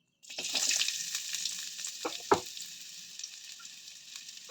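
Onion hisses and sizzles as it hits hot oil in a pan, a sudden crackling onset that settles into steady frying with a few sharp spatters and stirring clinks.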